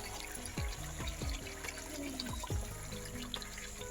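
Half a glass of water poured into chicken masala cooking in a pan, a clear close splashing pour with a few sharp plops and sizzling, no talk.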